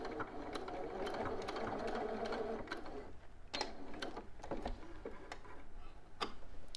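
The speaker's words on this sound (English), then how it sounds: "so that is side one of my top stitching" A sewing machine top-stitches a dress bodice, a quiet, steady mechanical hum with fine rapid ticking running throughout and no talking.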